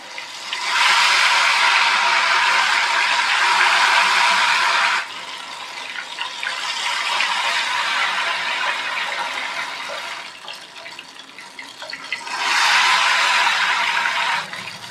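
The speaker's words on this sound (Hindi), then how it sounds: "थोड़ा थोड़ा बैटर डालते जाएंगे।" Ghevar batter is poured from about a foot high into hot ghee over a medium flame, setting off loud, broad frothing sizzles that surge at the start, ease through the middle and flare up again near the end, with no talk.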